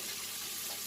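Onions sizzle steadily in a hot pan as they soften toward translucent, a continuous close hiss without pause and no voices.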